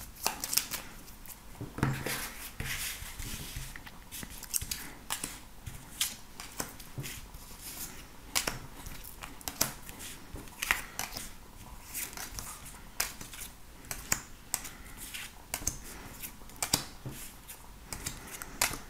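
Tarot cards being shuffled and dealt out onto a table, a dense run of soft flicking, riffling and tapping snaps that continues close and fairly quiet throughout, with no talking.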